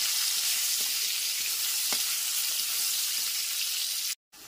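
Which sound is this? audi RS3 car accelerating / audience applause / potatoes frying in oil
potatoes frying in oil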